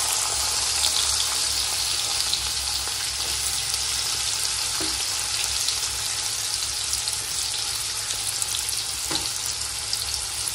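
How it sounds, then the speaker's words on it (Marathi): Finely chopped onion frying in a pan, a constant close hiss of sizzling oil with a few faint clicks of stirring, no voices. "आता यामध्ये मी बारीक चिरलेला कांदा टाकते."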